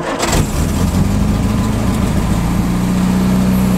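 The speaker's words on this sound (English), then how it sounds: "It's actually a very quiet sounding engine." A 1948 Ford Prefect E93A engine cranks with a little choke and catches, then settles into a steady, loud idle with a low, even rumble.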